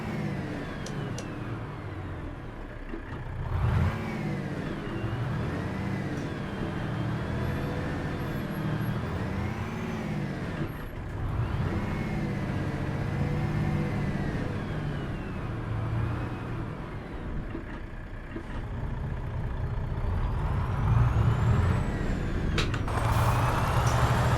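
A modded old-school Renault truck engine in Euro Truck Simulator 2 idles and revs steadily, its tone rising and falling in long sweeps, growing slightly louder toward the end, with no talking.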